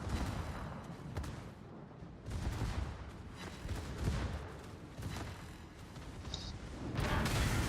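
Warship turret guns fire in the World of Warships video game, a run of rumbling, muffled blasts spread across a steady low background roar, fairly quiet in level.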